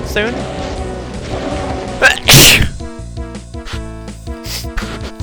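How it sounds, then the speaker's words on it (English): A loud, sudden sneeze bursts out in the middle, breaking over steady Doom game music and effects that continue before and after. "I gotta sneeze soon."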